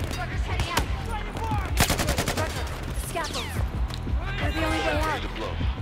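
Battlefield 4 sniper rifle fire mixed into dense game combat, with sharp repeated gunshots, bursts of rapid automatic fire and explosions, and chaotic battle noise throughout.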